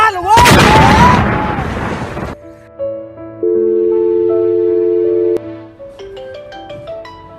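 A bomb or artillery shell explodes in a loud, roaring broadband burst lasting about two seconds. Steady electronic tones follow, like a phone ringing.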